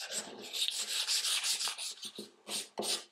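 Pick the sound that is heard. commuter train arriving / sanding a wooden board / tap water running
sanding a wooden board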